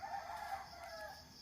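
A rooster crows once in a backyard garden, a short distant call rising and trailing off, faint and alone.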